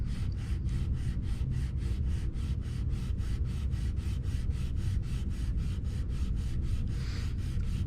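A guitar neck is sanded flat by hand with the grain, producing rapid regular back-and-forth rasping strokes, about four per second, close and steady with no talking.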